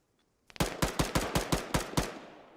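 Rapid burst of automatic gunfire in a military video game, about eight sharp loud shots in quick even succession after a brief quiet start, close and punchy.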